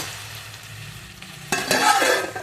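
Chicken curry in a pan gives a quiet low simmer, then a sudden loud burst of stirring and scraping with fresh sizzling over the last second.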